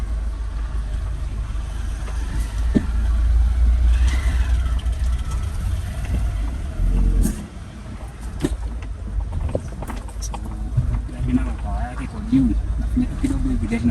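A Peugeot 206 drives along a quiet neighbourhood road while sluggish and dragging, with a suspected ECU problem. A steady low engine and road rumble runs throughout, with people talking over it.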